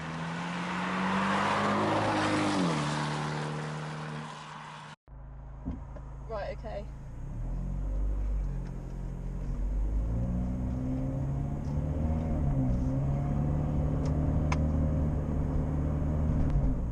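An Abarth 124 Spider engine with a Monza exhaust rumbles and revs, its exhaust droning steadily and rising in pitch at times; a voice speaks briefly over it.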